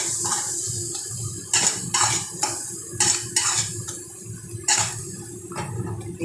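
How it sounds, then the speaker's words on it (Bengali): Spice paste with a little water being stirred and fried in a pan for an egg curry. A utensil scrapes and clinks against the pan in repeated strokes over a soft bubbling background, with no talking. "দিয়ে মশলাটাকে ভালো করে এবার কষিয়ে নেব।"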